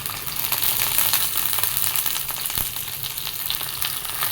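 Ginger, shallots, green chillies and curry leaves sauté for a homestyle sardine curry, making a loud, steady, crackling sizzle that never lets up.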